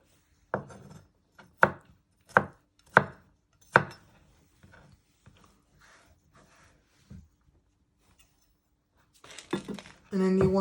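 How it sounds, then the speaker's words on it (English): A knife chops food on a cutting board while preparing beef goulash. About five sharp, evenly spaced cuts come first, then softer scattered taps, and a rustling clatter at the end. "And then you chop it the other way."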